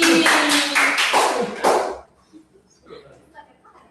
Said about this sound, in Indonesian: Kita aplaus lagi.